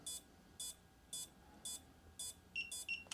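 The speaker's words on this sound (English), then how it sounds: "hold it down until it goes beep, beep" Five evenly spaced electronic beeps from FPV goggles binding to an O3 air unit, followed by a quicker run of shorter, higher beeps, clear and isolated against a quiet background.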